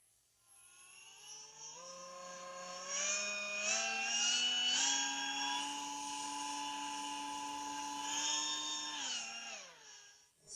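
A small electric motor driven by an electric drill whirs up to speed with a rising whine, holds a steady high hum, then spins down and fades.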